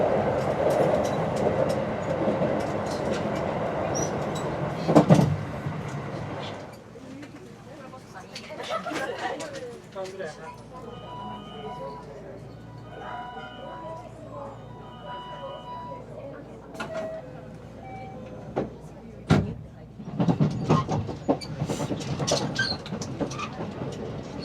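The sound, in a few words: local train riding through Japan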